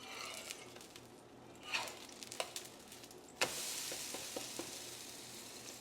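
Urad dal adai fries in sesame oil in a pan with a soft, quiet sizzle and a few spatula taps, then the sizzle swells louder and steadier after a sharp scrape midway.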